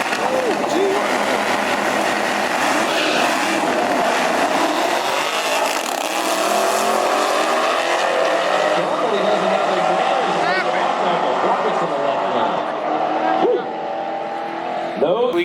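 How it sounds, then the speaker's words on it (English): Vehicles race down a drag strip in a steady, loud roar of engines and tire noise, with the car and diesel truck sound fading slightly toward the end as spectators talk nearby. "We got the diesel trucks."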